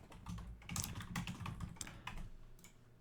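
Quick, close keyboard typing while renaming files on a computer, a steady run of light key clicks with a few louder taps, no voices.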